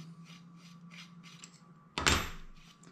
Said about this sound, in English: Undo the nut.